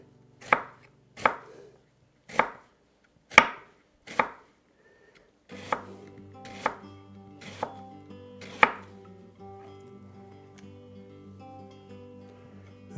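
A knife slices through food on a cutting board in crisp, evenly spaced cuts, about ten of them in two runs. The second run sits over a low background hum.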